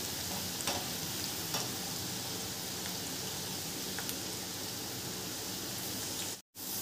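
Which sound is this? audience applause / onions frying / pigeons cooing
onions frying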